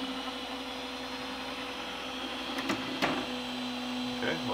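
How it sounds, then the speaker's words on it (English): A 3D printer auto-homes its build plate and hot end, with faint stepper motor whirs and a few soft clicks over a steady fan hum that grows slightly louder near the end. "what auto home will do is auto home the build plate and then auto home the hot end"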